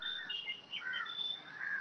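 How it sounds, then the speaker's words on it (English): Continuous high chirping and whistling from birds near a house in the evening, fairly close and steady throughout with nothing else audible. "There's a lot of birds near my house."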